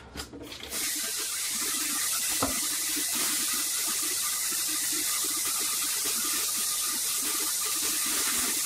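Tap water runs steadily into a sink while a leaking drain pipe is tested, a close, continuous splashing hiss after a brief clatter at the start.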